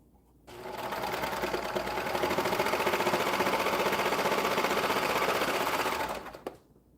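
Close and loud, a sewing machine hums through one continuous run of fast, even stitching lasting several seconds, then stops abruptly with a small clunk.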